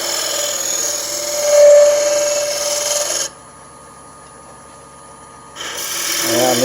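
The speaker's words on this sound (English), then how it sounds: "use this skew like a negative rate scraper" A skew chisel used like a negative-rake scraper works wood on a lathe while a draw knife handle is turned, giving a steady rasping scrape for about three seconds. It goes quiet for a short gap, then the scraping starts again.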